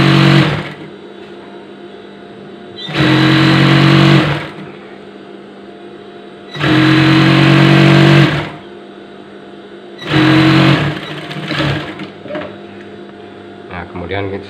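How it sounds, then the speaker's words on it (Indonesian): A sewing machine stitches the side seam of a dress in three loud, steady humming bursts separated by pauses, with someone speaking between runs. "bagian sampingnya kita jahit dulu ya, kampuhkan ya, kita kampuhkan bagian sampingnya."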